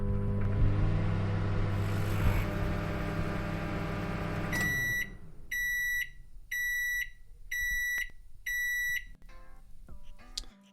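Microwave oven beeps used as a musical instrument: after a dense musical passage, a run of six clear, evenly spaced electronic beeps rings out alone, each a short steady tone.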